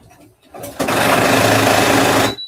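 A sewing machine stitching thick dog leash webbing whirs up after a brief quiet start, running loud and steady for nearly two seconds before stopping, with a voice briefly heard at the beginning.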